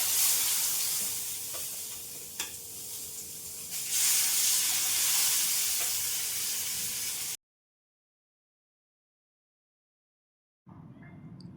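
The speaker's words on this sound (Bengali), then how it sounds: "সর্ষের তেলে প্রথমে মাছটাকে ভেজে তুলে রাখবো।" Hilsa fish fries in mustard oil in a wok, a dense loud sizzle with a few clicks of handling for several seconds, then silence before fainter frying resumes; no speech.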